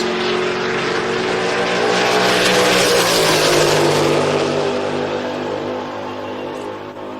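A hot rod launching at a drag strip, a loud continuous engine roar that swells and holds at full throttle before easing slightly as the car pulls away.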